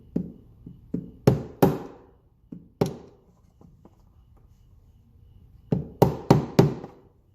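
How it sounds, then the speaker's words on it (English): A jeweler's mallet taps a nylon stick to drift a Glock 44 sight, making a series of sharp hard knocks, some light and some heavy, in two clusters separated by a quiet pause. "I'm gonna whack it here with the little nylon stick, and I believe this is a jeweler's mallet"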